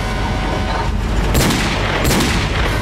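Gunfire rings out in the video game Resident Evil 4 on PC, with two loud, sharp booming shots about a second apart over a dense, noisy game backdrop.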